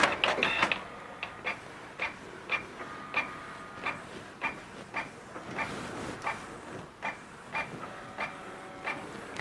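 Canon G2411 inkjet printer making a black and white photocopy, a quiet run of regular mechanical clicks and brief whirring pulses, close up in a small room with no voices.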